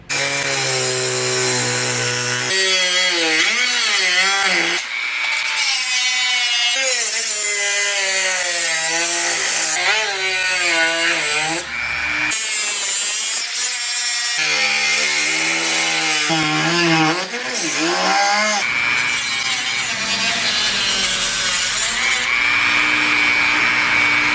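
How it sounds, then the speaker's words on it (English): A Dremel rotary tool cuts through the middle of an iPhone, giving a loud, continuous high-pitched whine whose pitch dips and rises as the cutting wheel bogs under load and speeds back up. "So I'm going to do the best I can to cut it with a Dremel and get right through the middle of it."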